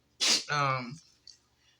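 A single sharp sneeze bursts out close by, a breathy intake followed by a voiced explosive release, then fading into quiet.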